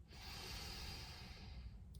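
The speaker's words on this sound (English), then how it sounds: "deep cleansing breath for me, breathing in" One long, slow, deep inhalation through the nose during a guided breathing exercise, soft and close with nothing else heard.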